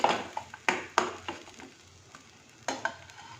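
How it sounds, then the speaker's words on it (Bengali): A spoon stirs crushed black pepper through a sizzling mix in a cooking pan, with several sharp scrapes and clinks over a soft, steady frying hiss, close and fairly quiet. "ক্রাশ করা গোলমরিচ, ভালো করে নেড়ে দেবো"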